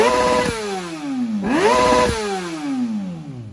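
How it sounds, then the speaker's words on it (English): A modified Kawasaki ZX-6R motorcycle exhaust revs twice in close succession, rising sharply then dropping back to a rough idle, loud and near with no talking. "Now she makes an exhaust note."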